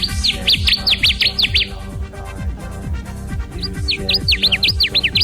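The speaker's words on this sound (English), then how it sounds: "It's Oporornis agilis, the Connecticut warbler, today's Talkin' Birds, featured feathered friend." Connecticut warbler (Oporornis agilis) song: two bursts of rapid, bright, repeated chirping phrases separated by a short pause, heard clearly over a low rhythmic music bed.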